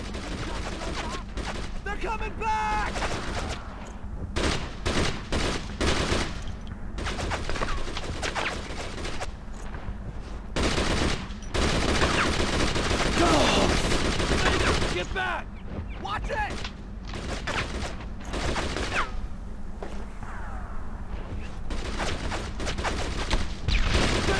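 Bursts of machine-gun suppressing fire in the World War II shooter Brothers in Arms: Road to Hill 30, rapid rattling volleys and scattered gunshots repeating across the whole stretch, loud and close, with shouted voices among the firing.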